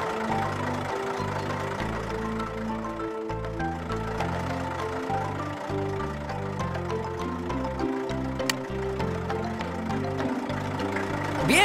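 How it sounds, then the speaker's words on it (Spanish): Cartoon tractor engine running, a steady low chugging rumble with rhythmic pulsing tones, moderately loud, alone with light clanks over it. "El tractor está listo para trabajar."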